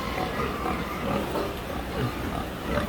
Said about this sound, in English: Come here, big pig.